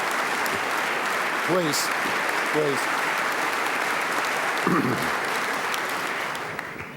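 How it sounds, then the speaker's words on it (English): Sustained applause fills the New Jersey State House Assembly chamber in Trenton after the governor's welcome, a dense, even roar of clapping with a few voices speaking briefly over it. "That should be the only applause of the day."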